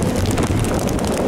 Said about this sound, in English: You know why the wind's blowing south? Because the hurricane spins like this, so it's pushing the wind that way.